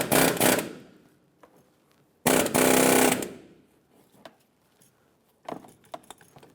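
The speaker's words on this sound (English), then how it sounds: "I'm going to try the air chisel." An air chisel hammers at a rusted intermediate steering shaft on a 2009-2014 Ford F-150, firing in two loud rapid bursts separated by quiet, followed by a few lighter clanks.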